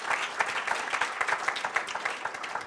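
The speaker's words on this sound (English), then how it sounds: "Let's give them a round of applause." An audience at a policy pitch event in Tallinn applauds research teams, giving steady, dense clapping that fills the whole short stretch at an even level.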